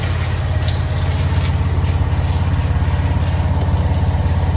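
An auto rickshaw engine idles close by, loud with a fast, regular low chugging pulse that holds steady and is heard alone.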